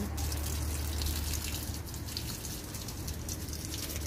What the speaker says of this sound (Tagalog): dilig ako ng halaman.